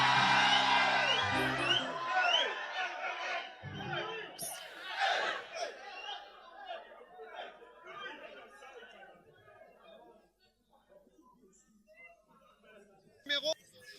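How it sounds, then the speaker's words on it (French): A congregation at a church service in Bunso, Ghana erupts in loud cheering, whoops and crowd chatter, fading gradually after several seconds, with brief shouts near the end. "acclamer le Seigneur"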